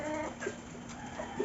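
Barred Rock and Rhode Island Red chickens cluck steadily at close range in a farm yard while being fed, with short clucks and murmurs overlapping throughout and no talking.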